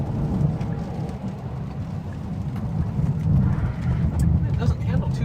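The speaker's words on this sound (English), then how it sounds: "because of the rain that we're having" Steady rain drums on a moving car's roof and glass, a dense continuous wash over low road rumble, heard from inside the cabin with no voices.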